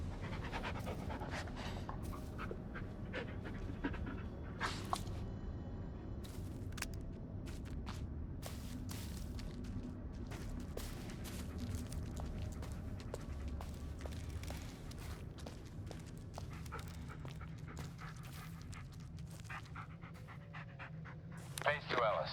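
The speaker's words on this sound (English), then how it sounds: "Good dog." A dog panting in the Blair Witch video game, steady and close, with footsteps and ambient game sounds around it.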